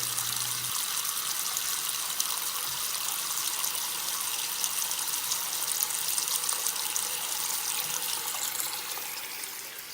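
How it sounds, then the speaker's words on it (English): Steady running water from a bathroom tap during morning teeth brushing and face washing, a continuous close hiss with no talking. "First, I'm gonna brush my teeth and wash my face, just kind of wake up a little bit."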